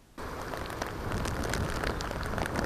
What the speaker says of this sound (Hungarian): Nagykanizsa palini városrészében hajnalig 75 mm-nyi eső esett